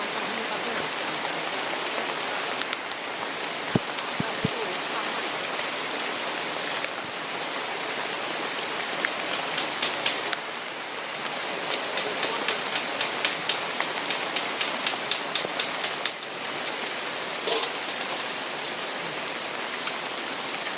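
Steady rain pours down in a forest, a continuous even hiss with scattered louder drips and patters on nearby surfaces, no voices.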